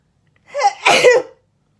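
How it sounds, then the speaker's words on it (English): A single woman's sneeze, close to the mic, with a brief sharp intake followed by a louder burst, then silence. "Uh-oh, I'm gonna sneeze."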